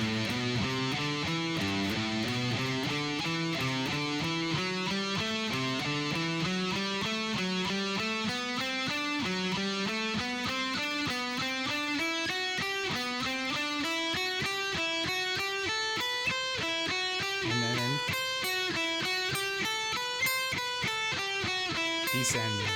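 A guitar plays a scale pattern slowly, with single picked notes stepping up and down in an even rhythm, clear and close with no talking.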